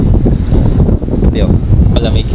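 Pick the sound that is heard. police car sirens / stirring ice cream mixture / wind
wind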